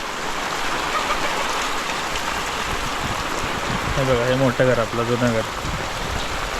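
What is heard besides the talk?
heavy rain in Konkan village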